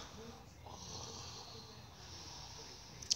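A sleeping man snores softly and steadily, a muffled, low rasping drone heard up close, with a sharp click at the very end.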